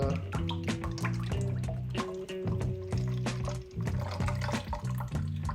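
Ingredients are poured into a buttermilk mixture, making close liquid glugging, splashing and dripping sounds in short uneven bursts over several seconds.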